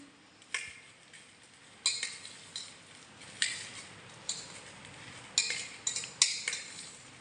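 A spoon mixes bhel puri ingredients, puffed rice and namkeen with papdi, in a bowl, giving sharp irregular clinks and scrapes against the dish at a close distance, spaced a second or so apart with no voices.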